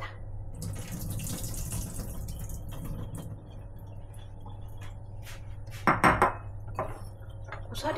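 Water drains and splashes from soaked bracken (gosari) in a kitchen sink, with running water and light clinks of a bowl or utensils, then a short louder burst of splashing near the end.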